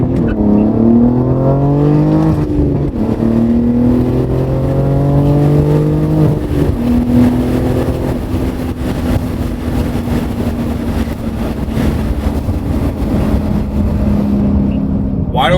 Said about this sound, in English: you can hear that exhaust. Obviously the burbles are definitely still there, prominent, very, very prominent.